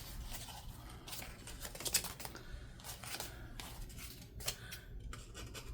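Scissors trim excess paper from a journal page kit, giving a few soft crisp snips and rustles at close range in a quiet room.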